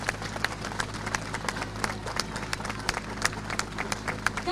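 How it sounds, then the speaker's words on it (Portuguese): Applause for a politician at a street rally in Arouca, Portugal: a crowd claps in quick, uneven bursts, moderately loud and sustained, with some voices mixed in. "uma grande salva de palmas para José Sócrates"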